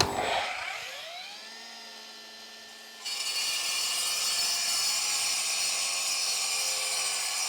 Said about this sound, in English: What other podcast cuts rocks?